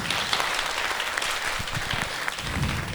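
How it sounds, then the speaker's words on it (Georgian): A comedy show audience claps in a steady, dense burst of applause lasting a few seconds, fairly close and even in level, with no talking over it. "აპლოდისმენტები"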